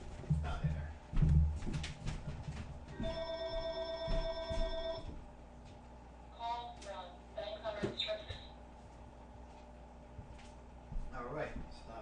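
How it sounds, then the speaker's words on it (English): A telephone rings with a sustained electronic trill, then short chirping tones follow, against a quiet room with brief murmured speech and shuffling. "All right, stop that phone"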